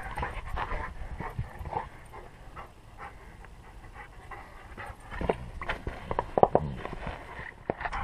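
A dog pants rapidly and close by at a five-acre dog play area in Central Oregon, with rustling and faint footsteps around it.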